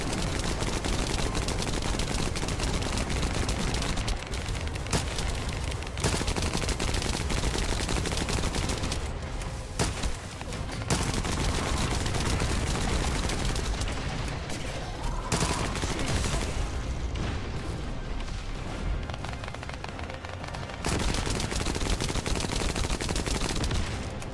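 Rapid, sustained automatic gunfire from the Last Dagger weapon in the shooter game The First Descendant, dense and loud across the whole stretch with a few brief pauses between bursts.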